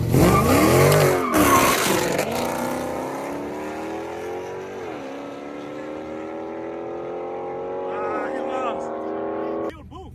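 A 2015 Dodge Charger SRT launches hard with loud tire squeal and a roaring engine close by, the V8 winding up through rising revs and fading as it pulls away, with people talking faintly.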